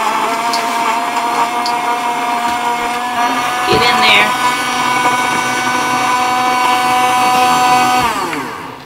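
A blender chopping a drink mixed with gel packs, a loud, steady, high-pitched motor whine that shifts tone briefly midway and then winds down at the end.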